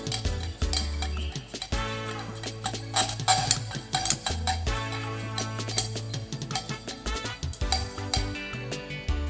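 A solid dissolving while being stirred into a solution for preparing aqueous iodine: repeated small clinks and taps of a utensil against glassware in an irregular rhythm, fairly close, with no talk over it.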